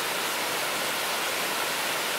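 The larger waterfall at Iron Creek Falls pours in a steady, dense, unbroken roar of rushing water, close and continuous, with no voices.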